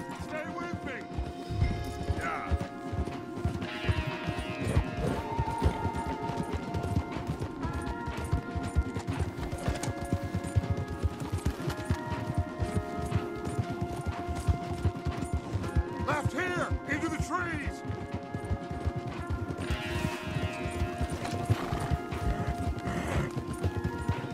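Horses galloping hard in the Red Dead Redemption 2 video game, continuous rapid hoofbeats with occasional whinnies and a dramatic score, with characters talking over it.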